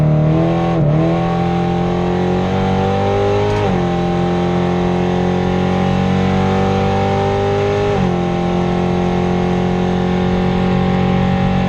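A drag race car tops out near 205 mph on a full-throttle pass, its engine roaring loud and close with a steady, dense drone broken by a few quick pitch dips as gears change.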